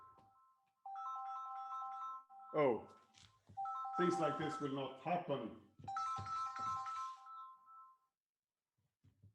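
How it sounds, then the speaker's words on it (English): A mobile phone ringtone plays a bright, repeating melodic tune in a university lecture hall, fairly close, while a voice speaks over part of it. "Sorry, my phone was ringing."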